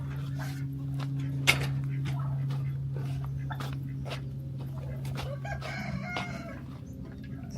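Rooster crowing on a farm animal sanctuary in the morning, a moderately loud call rising over steady low hum and other poultry clucking, with a dog and turkeys nearby.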